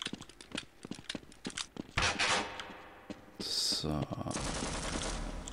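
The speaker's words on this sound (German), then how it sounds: "Man hört auch die ganze Zeit, dass weiter geschossen wird." Gunfire in Half-Life, rapid bursts of automatic shots at first, then louder blasts and shooting continuing, with a single short spoken word.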